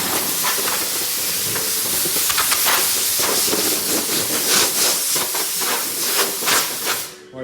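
Compressed air blasts dust off a pearl white Volvo front bumper being prepared for paint, a loud, close, continuous hiss broken by repeated short pulsing bursts before it cuts off.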